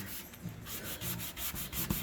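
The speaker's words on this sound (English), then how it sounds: "So I just took a sanding block" A sanding block rubs over painted wood to distress it, with short repeated scraping strokes close up, alone and fairly quiet.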